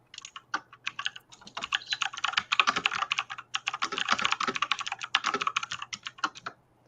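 Rapid, intense clacking of a computer keyboard rattles on almost without pause, dense close keystrokes over a faint steady hum, with no speech.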